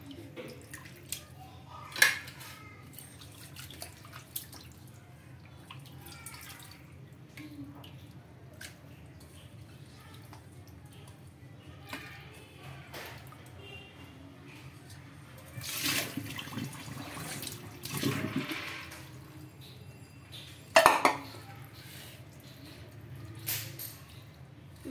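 Chicken pieces are rinsed in water at a kitchen sink, with quiet splashing, trickling and occasional louder sloshes and drips in an otherwise hushed room.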